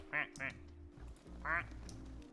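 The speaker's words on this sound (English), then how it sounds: "How about we hear some quacks from everybody in the pool?" Rubber ducks in the Placid Plastic Duck Simulator video game give three short nasal quacks, two in quick succession and one after a pause, over low background hum and game audio.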